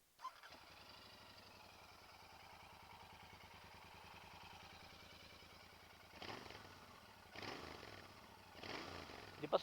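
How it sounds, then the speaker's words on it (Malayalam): A Royal Enfield Interceptor 650 motorcycle with its stock silencer starts, then idles with a steady, low, pulsing thump and revs up sharply three times toward the end. "ഞാൻ എൻ്റെ എക്സോസ്റ്റ് നോട്ട് ഒന്ന് കേൾപ്പിച്ചു തരാം."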